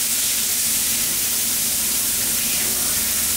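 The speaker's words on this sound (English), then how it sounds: "We got that old butter melted down, dude. Hit it with that holy trinity and the poop. That's the garlic. Listen to that sizzle" Garlic and vegetables sizzling in melted butter in a pan for shrimp and chicken rice and gravy, a steady, loud hissing crackle that runs unbroken throughout.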